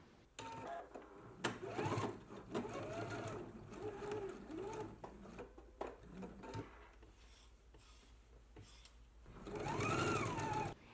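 Sewing machine stitching a partial placket runs in several short bursts with pauses between them as the fabric is pivoted and sewn across and up, ending in a louder sustained run.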